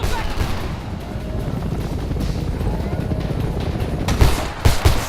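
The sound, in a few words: gunfire in the video game Homefront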